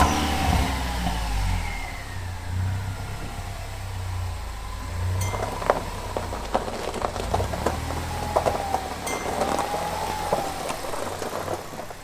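A Ford Ranger pickup's swapped-in 2.3L EcoBoost engine rumbles close by, revving and shifting as the truck backs out, with occasional clinks and knocks over the running motor.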